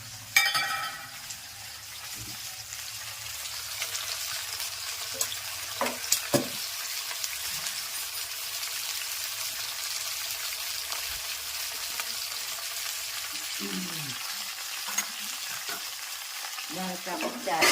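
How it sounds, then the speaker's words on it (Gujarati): Dal tempering sizzles steadily in a hot pan while being stirred, an even hiss broken by a few sharp clinks and scrapes of the spoon against the pan, with no talk. "અહીંયા દાળકા વઘાર"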